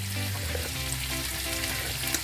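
Tomato passata with vegetable broth simmers in a pot, giving a steady close sizzle and bubbling that runs on evenly with no speech.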